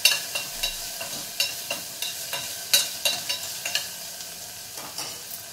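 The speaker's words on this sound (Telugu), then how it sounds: "వెల్లుల్లి, ఇది కొంచెం ఫ్రై అవ్వాలి." Garlic sizzles in a pan for a plain dal, with a soft continuous hiss broken by regular scraping stirs about every half second, close and moderately quiet, no talking.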